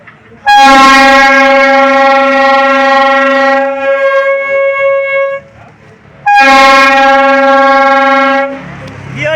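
Two long, loud harmonic whistle blasts from a hawker's toy whistle imitating trains, each steady for several seconds with a short gap between, like a toy train whistle hooting.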